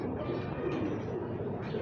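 Pigeons cooing close by in a loft of pure-bloodline teddy pigeons, a steady murmuring coo that runs for the whole short stretch with faint voices in the background.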